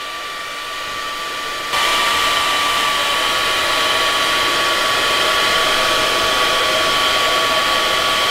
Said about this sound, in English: So you're gonna turn your blow dryer on high. Blow dry the back of it.